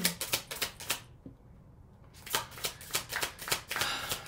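Tarot cards shuffled close up in quick riffling bursts, a pause of about a second, then another run of crisp rapid card flutters.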